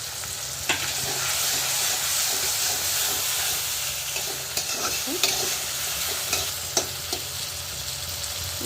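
Onions frying in a bell-metal kadai with ginger-garlic paste added, for a slow-cooked meat curry: a steady, bright sizzle with scattered spatula scrapes and clinks against the pan, close and continuous, no talking.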